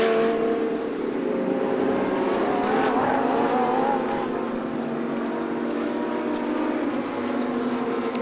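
GT2 European Series race cars, a Porsche among them, roar past together on the Paul Ricard circuit heading into turn 1, a loud, sustained multi-car engine blare that holds steady throughout.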